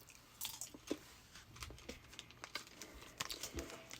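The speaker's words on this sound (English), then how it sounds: "Sorry, I'm chewing with my mouth full" Chewing a habanero pepper up close: soft, irregular wet crunches and squishy bites repeat through the clip with no talking.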